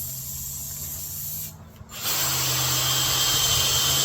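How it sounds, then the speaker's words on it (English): A power drill reams out a nail hole in a flat car tire during a puncture repair, a steady whirring grind that pauses briefly and then resumes louder and rougher, close up with no talk. "Drill into it. Drill out of it."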